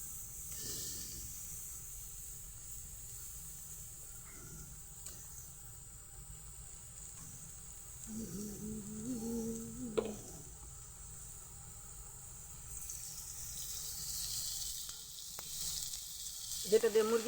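Onions and chillies frying in mustard oil in a home kitchen pan before chicken goes in, a steady close hiss and sizzle with a few stirring scrapes partway through.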